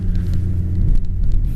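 A BMW E36 325td 3 Series turbodiesel cruises along, a steady low engine drone and road rumble heard from inside the cabin with no voices.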